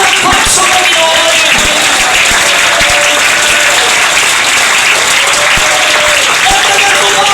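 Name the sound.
applause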